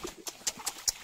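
Horse hooves clip-clop on a farm where cattle and horses are kept, several sharp, evenly spaced knocks about a fifth of a second apart, fairly close and alone.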